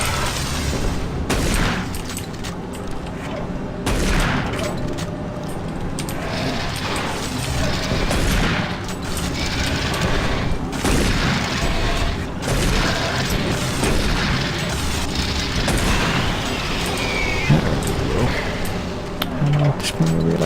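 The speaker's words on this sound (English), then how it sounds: "I was standing right next to an exploding power line." Exploding power line in Doom 3, a continuous roar of booms, crashes and crackling mechanical bursts, loud and close throughout with talk running over it.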